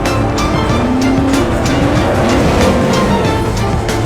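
Car accelerating hard in the heist film Gone in 60 Seconds, a loud close engine roar with rising tones as the revs climb, sustained throughout without speech.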